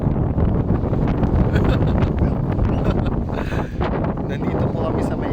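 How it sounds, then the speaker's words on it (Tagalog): Strong coastal wind at Kapurupurawan Rock Formation in Pagudpud buffets the microphone in a loud, continuous roar that never lets up, with a voice talking underneath. "Grabe lakas na naman ang hangin."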